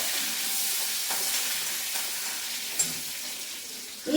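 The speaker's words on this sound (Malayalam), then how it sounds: "കറിവേപ്പില കടുക് നന്നായിട്ട് പൊട്ടട്ടെ" Mustard seeds and curry leaves sizzling and popping in hot oil, a steady crackling hiss with a few sharp pops and no talking.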